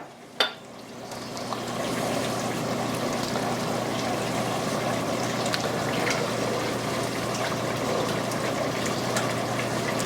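Whole milk poured into a soup pot of cooked flour roux for cheeseburger soup, a soft continuous liquid wash and gentle stirring that starts after a brief knock and holds steady and fairly quiet, with no speech.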